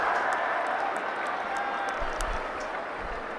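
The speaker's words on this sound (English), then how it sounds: "applauded the chase from Potts" Cricket crowd at a Pakistan versus England Test match in Multan applauding a fielder's long chase, sustained distant clapping and crowd murmur that slowly fades, with a low rumble partway through.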